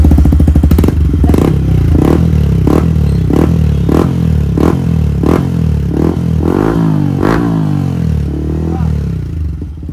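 A Yamaha MT-15 motorcycle with an aftermarket R1M-style exhaust rumbles close and loud at idle as the throttle is snapped open again and again, giving a rapid series of raspy revs and pops.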